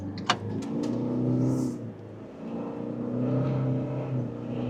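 Toyota Prado LandCruiser with an 8-speed automatic, offroad in low range, engine revving steadily as it pulls through the gears, a sustained near drone rising and easing in two long surges.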